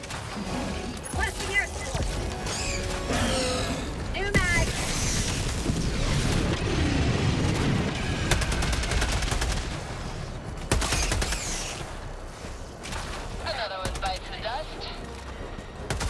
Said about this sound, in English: I'm gonna call in a strafing run.